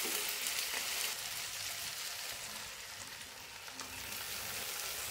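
Spices go into fried onion and tomato in a pan for a mutton recipe, giving a close, steady, hissing sizzle that eases slightly midway and then holds, with no talk.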